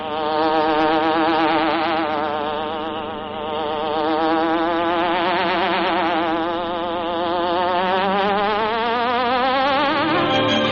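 Buzzing hornet sound effect from an old radio drama, a loud, continuous insect drone that wavers up and down in pitch throughout, with no voices over it.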